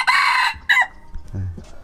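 A Thai native chicken crows loudly up close in two strained bursts, followed by lower, softer clucking sounds.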